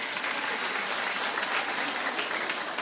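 A studio audience gives a brief, subdued round of applause, a soft and fairly even patter of scattered clapping that lasts a few seconds.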